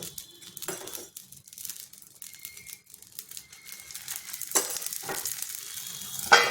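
Dosa batter sizzling in oil on a hot pan, a steady close frying hiss with a few brief louder bursts and crackles, no voices over it.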